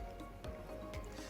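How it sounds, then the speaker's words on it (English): A pan of water simmers on a gas stove for poaching eggs, soft bubbling and small pops close by at low level, with no voices. "I have a pan of water that is simmering"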